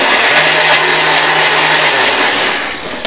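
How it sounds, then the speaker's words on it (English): A kitchen blender whirs loudly up close as it purées bananas for chocolate pancake batter, a continuous high motor drone with a low hum that eases off and stops near the end. "we're going to put the bananas in the blender here, and we're going to turn the power on"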